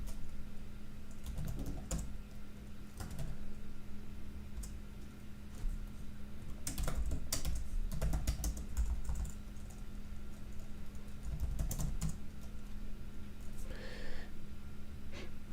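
Clicky keystrokes on a computer keyboard as a key combination is typed in the Vim text editor, with irregular bursts of taps close by over a steady low background hum.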